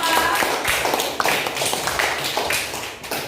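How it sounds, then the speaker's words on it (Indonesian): Classroom applause for group 4, a lively patter of many hands clapping at once, fairly close and steady for several seconds. "kita berikan aplaus kepada kelompok 4"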